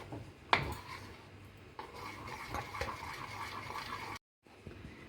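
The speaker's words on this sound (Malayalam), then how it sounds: "മിക്സ് ചെയ്ത് കൊടുക്കുക." Maida flour dough, about one and a half cups, stirred together in a bowl for cream buns: steady scraping and stirring with a sharp utensil clink near the start and a brief pause near the end, no talking.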